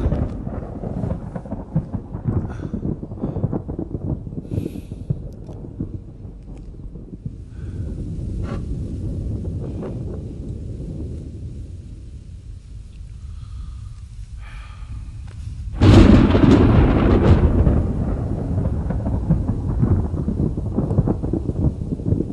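A night thunderstorm over a village. Low rolling thunder rumbles on and off, then a sudden loud crash of thunder breaks out and keeps rumbling heavily.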